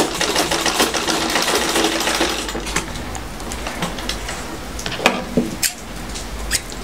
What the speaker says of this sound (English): put it into your machine, and stitch around just like how I stitched the sleeve around.